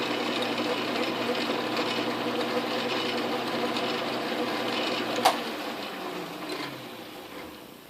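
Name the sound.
Atlas Craftsman metal lathe running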